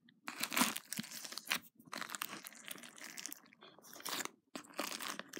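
Crunchy slime gives crackling squishes in bursts of repeated clicks and pops, close up, with short pauses between handfuls.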